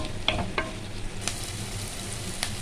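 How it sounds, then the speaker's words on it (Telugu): Fenugreek-leaf green mango rice fries in a pan, a steady soft sizzle with a few faint scraping stirs of a spoon, close and quiet, without speech. "2 నిమిషాల పాటు తిప్పుకుంటూ కలుపుకుంటూ వేయించుకోవాలి"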